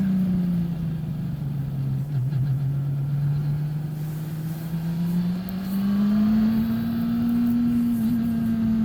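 Radical race car engine on hot laps at Mallala circuit, a steady loud drone that dips slightly then rises in pitch as the car accelerates, with constant road and wind roar throughout and no talk.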